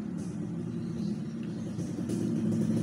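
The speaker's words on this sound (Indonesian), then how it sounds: "Di depan baru saja RE King lewat. RE King itu motornya knalpotnya khas, treng teng teng teng teng teng gitu." An RE King motorcycle with a distinctive exhaust passes by, heard as a low, steady engine rumble that swells slightly toward the end, moderately loud and without talk.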